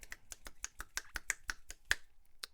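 A dozen or so crisp finger snaps, close and clear, in a quick, slightly uneven rhythm with no talking.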